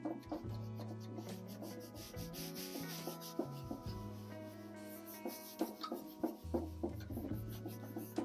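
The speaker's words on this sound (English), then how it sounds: "we're just going to do a quick scuff sanding just so it'll rough up the surface" Steady rubbing and scraping of sandpaper on a wooden surface, continuous strokes with a low droning hum underneath.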